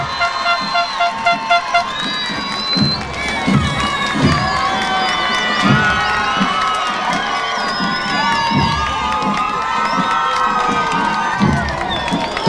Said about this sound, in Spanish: con toda la ovación y el grito del público